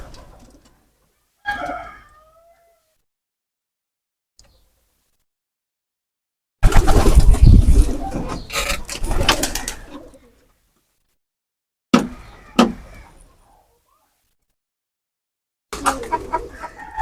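Pigeons kept in a chicken house during breeding season call in short, separated bursts of cooing and fluttering, close and fairly loud, with stretches of silence between.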